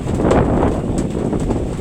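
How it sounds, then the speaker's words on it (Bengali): Strong wind blows across flooded fields, with a continuous, loud, rumbling buffet of gusts on the microphone, and no other clear sounds. "আর কী পরিমাণ বাতাস বইতেছে।"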